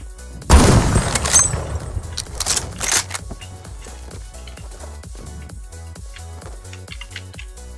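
Burst of gunfire in a shooter game using a compensator-fitted weapon, a loud volley near the start followed by a string of quieter repeated shots and clicks fading through the rest, with no talking.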